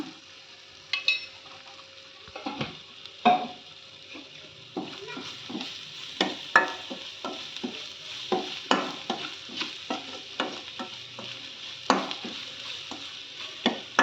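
Pudina masala mandakki with turmeric and chat masala is stirred in a pan, giving close scraping clinks of a spoon and dry rustling of puffed rice in irregular strokes over a soft sizzle, with no talk.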